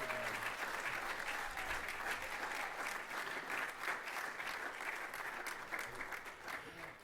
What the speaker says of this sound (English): let's give the Honorable Congressman Conyers, Dean of the Congress, a round of applause.